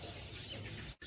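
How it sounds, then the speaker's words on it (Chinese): Sparrows chirp and twitter in a bamboo grove, a steady busy chatter of small birds at moderate distance, filling the short stretch almost continuously before a brief gap near the end. "麻雀叽叽喳喳的"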